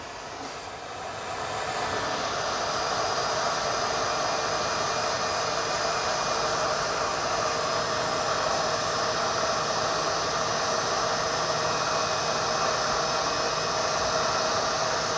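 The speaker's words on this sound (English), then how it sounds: "Pull out my hot air gun, let it heat up." A handheld hot air gun blowing steadily at close range, starting up in the first second or two and then holding a loud, constant whooshing roar with no talk.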